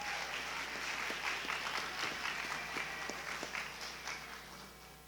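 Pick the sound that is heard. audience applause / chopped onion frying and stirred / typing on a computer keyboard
audience applause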